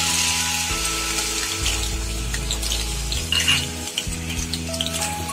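Aloe vera pieces dropped into hot oil for a homemade aloe vera and onion hair oil, frying with a bubbling sizzle, a low hum and a few light utensil clinks, with no talking.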